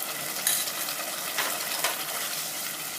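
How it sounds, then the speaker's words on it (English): Onion and ginger garlic paste fry in hot oil in a pan, making a continuous close sizzle with a few soft stirring scrapes and faint bubbling bursts throughout, and no talking. "the onion has changed a little bit its color, and now we are going to add ginger and garlic paste"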